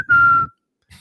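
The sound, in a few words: imitation of crowd whistle at a dull boxing fight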